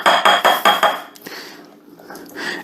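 A sour cream and mayonnaise mixture is stirred in a bowl for pepperoni pizza dip. Several quick, rhythmic scraping clinks of a utensil against the bowl come up close and loud, then a brief quieter pause.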